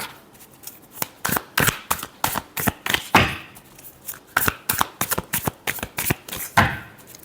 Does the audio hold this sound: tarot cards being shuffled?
yes